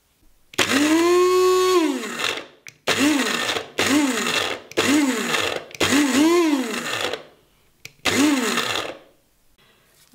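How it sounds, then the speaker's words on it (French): Electric coffee grinder pulverizing dried turmeric in five loud bursts, each whine rising then falling as the motor spins up and cuts off, with short silent gaps between. "j'ai choisi de moudre directement le curcuma"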